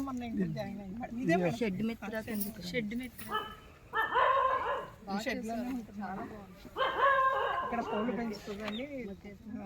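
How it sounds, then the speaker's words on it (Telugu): A dog barks in short, repeated bursts near the listener, mixed with people talking outdoors at a tree-planting site, the barks rising over the voices in a few clusters. "ఒక డాగ్ ఉందండి"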